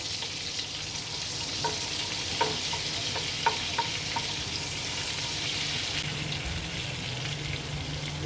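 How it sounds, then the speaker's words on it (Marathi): Butter melts into hot oil in a pan for pav bhaji, making a steady close sizzle with a few small clinks and taps on top, and no voices. "त्याच्यामध्ये हे छान असं बटर घालून घेणार आहे। तेल याकरता टाकलाय आधी, कारण मग बटर जळायला नको।"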